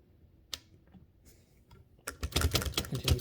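A few isolated clacks, then a dense run of rapid keystrokes on a 1936 Klein-Urania typewriter starting partway through, close and loud.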